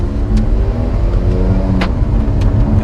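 An Alfa Romeo 4C Spider engine under load as the driver shifts up without lifting off the throttle, a loud, close, droning growl with a few sharp pops and a brief break in the tone.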